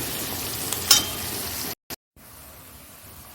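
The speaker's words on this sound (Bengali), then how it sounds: "দেখো এখানটায় তোমার হলো পেঁয়াজটা ভাজা হয়ে গেছে" Onions salted and frying in a pan while being stirred, giving a steady close sizzle with a brief clink of the spoon, then a short break of near silence before a quieter sizzle resumes.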